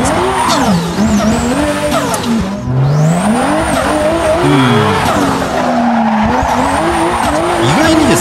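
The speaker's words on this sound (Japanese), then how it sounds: "まあ、ちょっと引き続きドリフト行ってみましょう。" Drifting car in a racing simulator game, with a sustained loud tire squeal that warbles and slides in pitch under a revving engine, and a voice talking over it.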